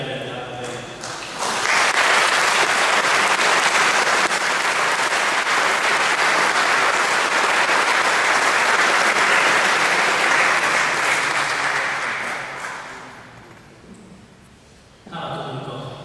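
A large church congregation at an anniversary festival service breaks into loud, sustained applause for the Maltese aid service, holding steady for about ten seconds before fading out, with a voice resuming at the end.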